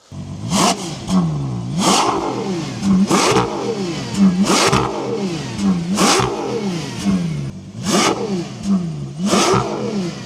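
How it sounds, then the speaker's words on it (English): A 2025 Ferrari Purosangue engine revs hard in a steady rhythm while driving, rising and falling in roughly eight or nine loud, close surges with no talk over it. "Let's take the Ferrari Purosangue Pure Blood out for a drive."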